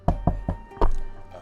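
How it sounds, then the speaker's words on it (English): Four sharp knocks on a door, three close together and a fourth after a short pause, loud and near, heard during a Daggerheart tabletop role-playing session. "you hear a knock on the door"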